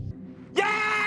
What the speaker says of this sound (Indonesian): dia berteriak sangat keras.